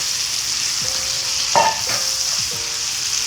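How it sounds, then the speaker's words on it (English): Octopus sautés lightly in oil with aromatics ahead of pressure cooking, a steady close sizzle with a few soft utensil scrapes and a brief louder clatter midway, and no one speaking. "We're just going to lightly saute this"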